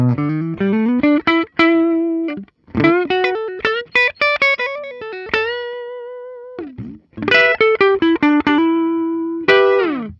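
A 2022 Epiphone Joe Bonamassa 1962 ES-335 electric guitar with Gibson humbuckers plays in a clean tone: quick picked notes and ringing chords, strummed phrases that sustain and decay, a brief pause, then another run, loud and close.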